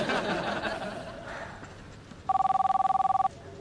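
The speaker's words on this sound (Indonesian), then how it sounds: "Tuh, ada telepon Mas, angkat." An electronic telephone rings in one rapid trilling burst of about a second, loud and close, following a stretch of indistinct room sound and faint laughter.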